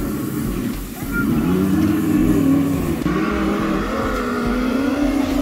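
A Gocart Pro go-kart engine hums and revs steadily as the kart is driven nearby, its buzzing drone rising and falling, with people talking over it.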